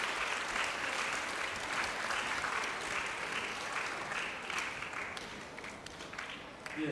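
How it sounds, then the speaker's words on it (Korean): An audience at a percussion ensemble's annual concert in Daegu applauds steadily for several seconds, a dense wash of clapping that gradually thins toward the end. "한 박수 부탁드립니다."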